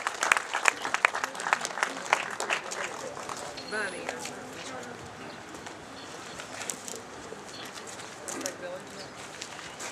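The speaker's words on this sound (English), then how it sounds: "So hats off to them and a round of applause." An outdoor crowd at a community museum grand opening bursts into applause, loud clapping at first that thins out, with pigeons cooing and flapping nearby and voices talking throughout.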